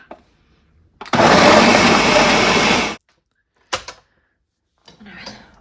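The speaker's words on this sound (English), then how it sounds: "Now, I'm going to blend this until it's pretty creamy." A blender whirs loudly for about two seconds as it purées a cashew sauce until creamy, then cuts off abruptly, followed by brief knocks and faint rustling.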